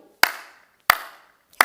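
Three sharp, close single hand claps ring out at a Korean church Sunday service, evenly spaced with a brief room echo after each and quiet between.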